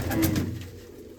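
Pigeons coo close by, a few soft throaty rolling calls in quick succession that fade toward the end, with no voices.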